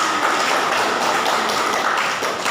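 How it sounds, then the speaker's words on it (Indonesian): A classroom of students claps together after a lesson, a dense, steady patter of many hands that holds loud and even, then tapers slightly at the end. "Boleh tepuk tangan."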